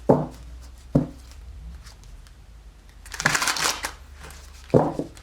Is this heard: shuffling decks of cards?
yes